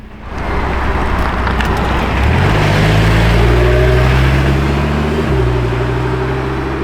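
Yellow Lamborghini Revuelto hybrid supercar engine rumbling loudly nearby, rising to a higher steady tone midway and then dropping back, with wind noise throughout.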